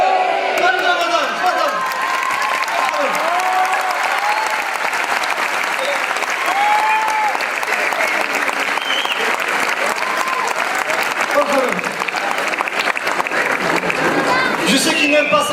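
Loud, sustained applause and cheering from a large crowd at an annual Muslim gathering in southern France, continuous clapping with scattered shouts and voices throughout.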